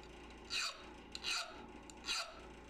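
A Rockwell hardness file skates across a heat-treated steel knife blank in three short, bright rasping strokes about a second apart, close and clear in a quiet room with no voices.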